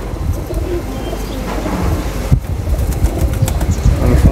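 Several racing pigeons from a loft of about twenty birds coo and flap their wings at close range, a continuous busy flutter with a sharp wingbeat burst midway and no talking.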